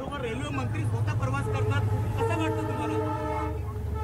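A train runs on a newly opened railway line, its steady rumble and rolling clatter continuous throughout, with someone talking over it.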